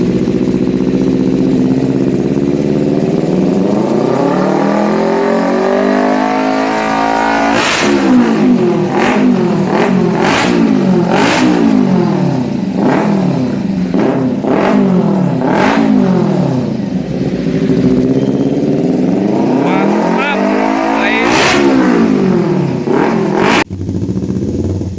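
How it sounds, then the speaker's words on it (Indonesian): Kawasaki Ninja FI motorcycle fitted with an SC aftermarket exhaust, revving loudly and close: a rising build-up, then a run of sharp repeated throttle blips, another climb and a sudden cut-off. "Sound knalpot SC untuk Ninja FI."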